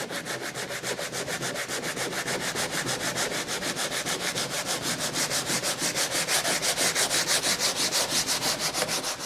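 Steady rhythmic sanding strokes scraping old paint off the interior profile of a wood window, close and loud, repeating evenly throughout with no voices.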